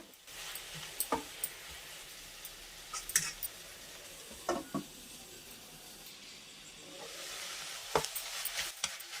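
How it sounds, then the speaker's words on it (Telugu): Amaranth leaves fry in a pan while a spatula stirs them, producing soft scraping taps in short irregular bursts over a quiet, steady hiss of cooking, close up with no voices. "మధ్య మధ్యలో ఇలా కలుపుకుంటూ ఉండండి తోటకూర మొత్తం మగ్గిపోవాలి చక్కగా"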